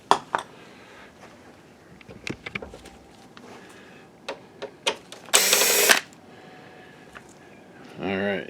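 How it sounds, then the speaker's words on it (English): Screws being removed from an Optoma HD37 DLP projector, with scattered sharp clicks and taps of a small screwdriver, a short whirring burst near the end, and a voice briefly heard, all close and fairly quiet. "So we need to take out, let's see, 1, 2, those 3 screws."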